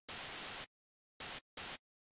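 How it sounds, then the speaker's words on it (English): Bright white noise synthesized in Serum plays in three clean bursts: a long half-second blast, then two short bursts with abrupt starts and stops, loud and steady with silence between. "maybe let's add some white noise"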